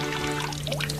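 Water runs steadily from a tap in a short, continuous pour, close and moderately loud, with a trickling, splashing texture over a low steady hum and no talking.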